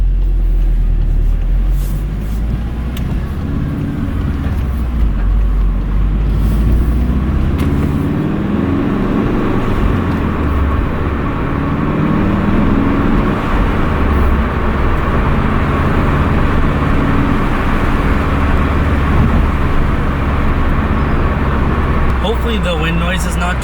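A 2019 VW Golf R fitted with an MST intake drives normally along a road with the windows down, its steady engine drone mixed with wind and road noise throughout, loud and close.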